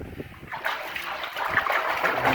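Water sloshing and splashing inside a large 2,500-gallon storage tank on a desert homestead, a steady hollow, echoing churn that swells slightly louder toward the end.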